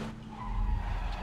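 Car skidding in the battle-royale video game PUBG, a continuous rough tire-skid roar with low engine rumble lasting just over a second, fairly loud and steady with no talk over it.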